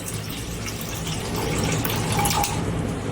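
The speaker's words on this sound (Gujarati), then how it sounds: "બે ત્રણ પાણીએ ધોઈ લઈએ ને બે ત્રણ વાર કોતરા કાઢી લઈશું" Water sloshes and splashes steadily in a bowl as fenugreek leaves are rinsed, a continuous wet churning with some clinks, close and fairly loud.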